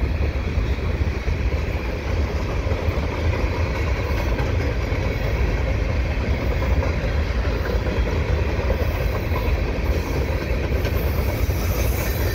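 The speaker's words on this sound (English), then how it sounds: "this train will probably be the one that's heading down to Syracuse, New York" A CN freight train, train 327, hauled by CSX locomotives, rumbles westbound past close by at Dorval, a loud, continuous roar of rolling wheels and heavy cars with no break over the whole stretch.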